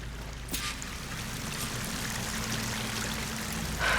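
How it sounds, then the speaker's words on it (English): A video game waterfall in Horizon Forbidden West gives a steady rushing, pouring wash of water, moderately loud and continuous, with a brief sharper splash near the start. "That waterfall must be coming from somewhere."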